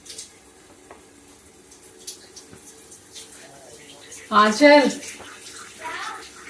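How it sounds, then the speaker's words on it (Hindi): Water running from an Aquaguard purifier into a jug, a low steady trickle that swells into a louder gush near the end, with someone speaking briefly. "ये एक्वागार्ड के लिए मैंने पानी लगा दिया है जग में, भर लेना।"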